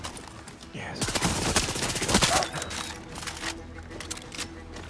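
Gunfire in Far Cry 6, rapid automatic bursts crackling in the mid-distance, with scattered single shots and in-game clatter after the main volley.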